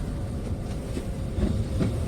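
A train at a railway station in a snowy northern European town gives a steady, close rumble with a soft rhythmic clatter of rolling stock, continuous and with no voices.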